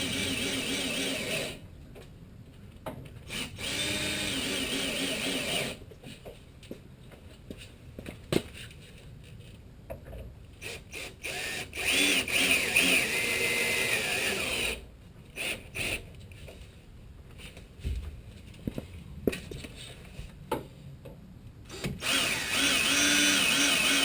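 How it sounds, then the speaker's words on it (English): A screw gun drives screws tight during a teardrop trailer build, with several whirring bursts of varying length separated by short pauses, up close and loud. "I'll go after it with the screw gun."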